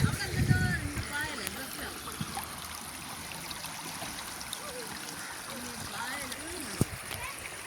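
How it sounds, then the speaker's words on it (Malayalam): River water flowing and splashing beside a small boat on a riverside trip, a steady broad wash with scattered splashes and trickles, fairly close, with a louder splash near the start. "വെള്ളത്തിൻ്റെയൊക്കെ സൗണ്ട് കേൾക്കുമ്പോൾ നിങ്ങൾക്ക്"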